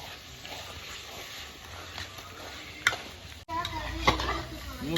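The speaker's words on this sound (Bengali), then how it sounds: "এবারে যাচ্ছে আমাদের কড়াইতে চিকেনটা" Fresh desi chicken drops into a hot wok and starts frying, a soft sizzle building into a louder burst with scraping stirs, while people chat nearby.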